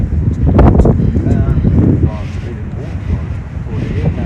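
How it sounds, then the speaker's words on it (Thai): Cold night wind buffets the microphone during an outdoor bike ride: loud rushing gusts that are strongest early, then a steadier blustery roar with some voices underneath. "ตอนนี้อากาศหนาวมากค่ะ เย็นลมพัดด้วย"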